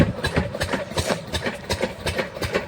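A farm water pump machine runs in a field, chugging with a steady, rhythmic low pulse like a small idling engine, close and continuous.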